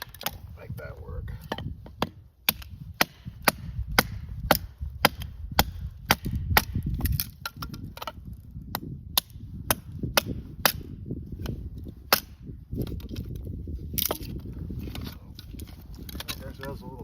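Sharp, distinct chops as small pieces of wood are split off for campfire kindling at a cold-weather waterside campsite, a long run of crisp cracks at an uneven pace, close and clear with a voice speaking between strikes.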